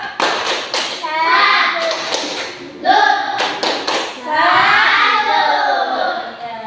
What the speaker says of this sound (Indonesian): Beri tepuk salam.